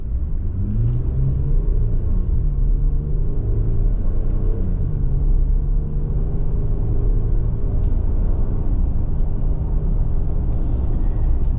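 A 2025 Ram 1500 Tradesman 4x4 pickup with the Pentastar V6 pulls away and accelerates, its engine note rising steadily as a deep, continuous rumble heard from inside the cab.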